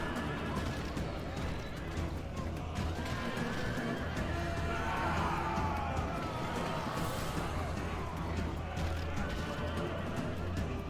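Horses whinny repeatedly in a Rome: Total War battle, with a faint drumming of hooves and battle din beneath, all moderately loud and continuous without speech.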